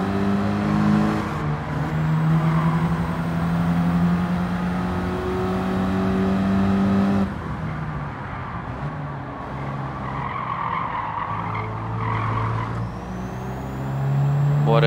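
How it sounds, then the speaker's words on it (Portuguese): A Renault Clio hot hatch racing in Gran Turismo 7, engine revving and shifting through gears with tire squeal and skidding, loud and continuous game audio with rising and falling engine pitch. "Bora, Renaultzinho, bora, Clio."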